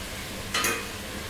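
Crab curry seasoned with turmeric is stirred in a pot with a ladle, giving a single brief scraping swish that stands out over a quiet kitchen background, with no talking.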